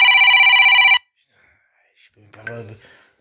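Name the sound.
phone ringing with incoming call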